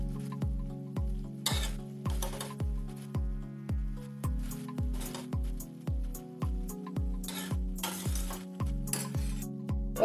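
Fried eggs being gently turned in a red chilli egg curry, with regular rhythmic metal clinks of a utensil against the pan over a low, even sizzle, close up and without talk.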